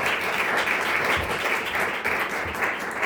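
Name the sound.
audience applause at book award ceremony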